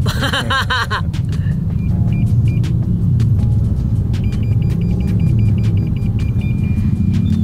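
Inside a car stuck for hours in a Jakarta traffic jam in the Mampang area, a steady low engine rumble fills the cabin, with a brief whine at the start and faint beeps and clicks over it.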